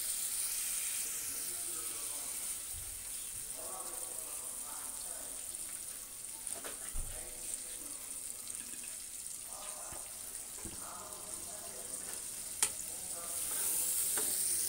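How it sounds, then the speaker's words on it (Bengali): Ginger, garlic and onion paste cooking in a pan with a splash of water for an egg curry, a soft steady sizzle with occasional scraping stirs and a few knocks, fairly quiet, no talk. "আদা রসুন পেঁয়াজ বাটা দিয়ে দেবো সামান্য পরিমাণ একটু জল যাতে মশলাটা পুড়ে না যায়"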